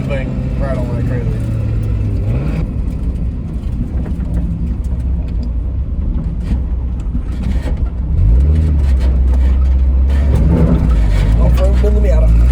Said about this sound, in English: now you can really hear that thing rattle like crazy.